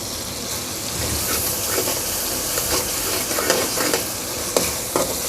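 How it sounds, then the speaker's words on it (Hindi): Salt and chili spices sizzle in a pan with tomatoes after a splash of water, giving a steady hissing fry with occasional stirring clicks and small pops, close and continuous with no talking. "और हल्का सा पानी का हम छींटा लगाएंगे ताकि नमक मिर्च जले ना"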